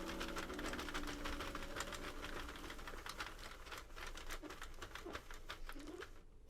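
A Sentro or Addi circular knitting machine is cranked one full round while making a ribbed-brim slouch hat, giving a rapid, steady train of close plastic clicks and clatters that continues without pause before stopping near the end.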